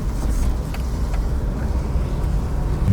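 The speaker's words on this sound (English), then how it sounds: "Nice bit of traffic there now." Steady road traffic rumbling past, with engine drone and tire noise filling the low end and a brief whoosh of vehicles going by, no voices.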